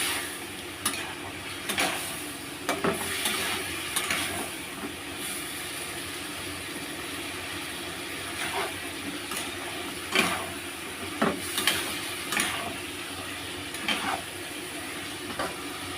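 Elephant foot yam with prawns stirring and frying in a pan: continuous sizzling hiss with scattered clicks and scraping knocks of a utensil against the pan, close and fairly quiet, with no talking.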